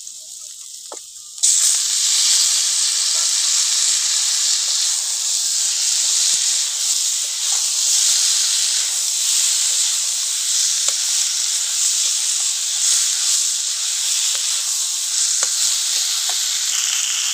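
Fried potato and eggplant pieces go into a hot pan of spiced oil, setting off a sudden loud burst of sizzling that stays strong and steady, with occasional stirring clicks.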